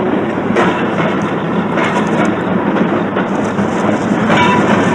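A train wagon rolls on rails in a steady loud rumble with rhythmic clicking and clattering, continuous and close throughout.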